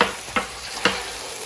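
Mutton with yogurt roasting in a karahi, a steady soft sizzle broken by two brief scraping stirs of the spoon, fairly close and without talk.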